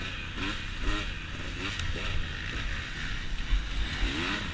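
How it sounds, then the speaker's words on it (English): A dirt bike racing in a hare scramble, its engine rising and falling as the rider rolls on and off the throttle, steady and fairly near with wind rush over it. "I'm on the gas, off the gas quite a bit, like I'm really playing with the throttle"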